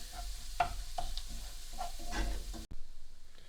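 Chopped garlic sizzles in a hot pan while being stirred, with a few scraping strokes over steady frying hiss before a brief cut, close and moderately loud, no talking.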